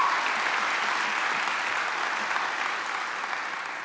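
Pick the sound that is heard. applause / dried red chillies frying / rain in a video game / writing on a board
applause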